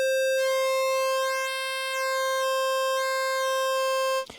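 Polymoog 203a synthesizer holding a single steady bright tone as its pulse width is swept, the timbre shifting slowly before cutting off at the end, no voices.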